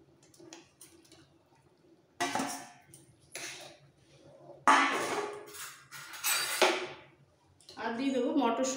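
A ladle scrapes and clinks in a pot of rice and lentil khichuri with fried cauliflower. Irregular bursts of stirring come between quiet gaps, and a voice talks in places.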